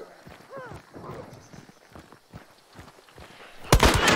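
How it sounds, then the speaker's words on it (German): A few sharp gunshots ring out in Hunt: Showdown, the loudest burst near the end, with scattered thuds and footstep-like taps, while a person talks over it in German. "Oh, Schüsse auf mich aus Osten."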